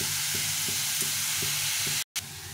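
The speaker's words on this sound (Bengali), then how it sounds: "কিছুক্ষণ ধরে নেড়ে চেড়ে ভেজে নিতে হবে এটাকে।" Bottle gourd stirred and fried in a pan gives a steady close sizzle, with soft regular spatula scrapes about every third of a second and a brief dropout near the end.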